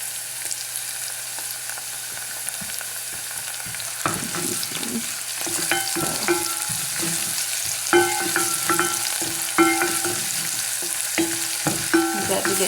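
Garlic and ginger browning in hot oil sizzle steadily for the Ethiopian shiro dish, close and moderately loud, with a spoon scraping and stirring in short bursts through the second half; no one speaks.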